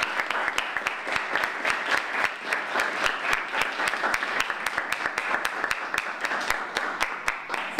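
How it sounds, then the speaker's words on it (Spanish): Audience applause at the close of a literature forum, with steady, dense clapping from a room of people that keeps a constant level throughout, crisp individual claps standing out above the wash. "yo creo que deberíamos de darles un fuerte aplauso"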